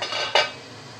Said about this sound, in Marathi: आता 20 मिनिटं झालेली आहेत, आपण झाकण काढून चेक करून घेऊया।